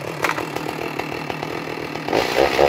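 A Stihl MS310 chainsaw is running after a restart, with a steady, fairly loud engine drone that rises and grows rougher toward the end. No one speaks.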